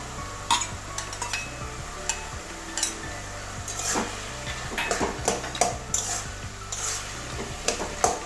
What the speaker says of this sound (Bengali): এখন এবারে ভেজে রাখা মুড়িগুলো সব দিয়ে দেবো